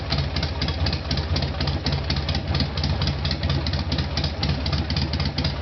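A Yamaha XS650 motorcycle engine fitted with Tytronic ignition runs at a steady idle, a loud, close, even mechanical thrum with a rapid regular pulse and no talk over it.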